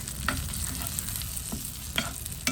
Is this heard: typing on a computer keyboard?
no